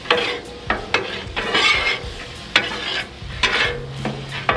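A large batch of eggs scrambling on a hot Blackstone griddle, steady loud sizzling broken by repeated metallic scrapes and taps of a spatula stirring on the flat steel surface.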